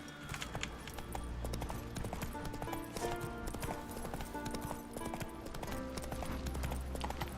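Hooves of Roach, Geralt's horse in The Witcher 3 video game, clip-clop steadily in a continuous loud rhythm over game music and ambience for the whole stretch.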